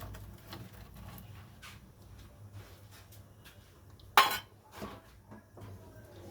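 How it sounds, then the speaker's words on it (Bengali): Fried dry fruits tipped into melted sugar in a pan while making a sweet semolina payesh: a quiet kitchen bed broken by one sharp metallic clatter, then a few softer clinks and scrapes. "এইবার আমি দিয়ে দেবো ড্রাই ফ্রুটসগুলো"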